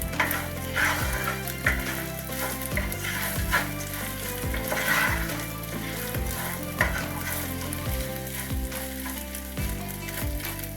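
Rice and vermicelli sauté in oil in a pot for pilaf, giving a steady sizzling fry with repeated stirring scrapes and a few light clinks, close and continuous with no talking.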